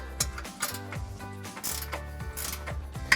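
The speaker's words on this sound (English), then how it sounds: "So now I'm gonna take my 21mm wrench. I'm just gonna work these guys loose." A 21 mm ratcheting wrench loosens bolts on a 2019-2023 RAM 1500 suspension during a lift kit install, giving a series of close, quiet clicking ratchet strokes in an irregular rhythm.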